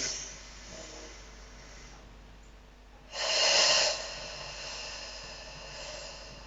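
Deep, slow breaths during a workout, soft airy inhales and exhales up close, with one louder, forceful exhale in the middle standing out against a quiet background.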